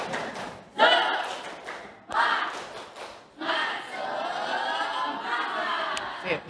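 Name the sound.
class doing rhythmic clapping cheer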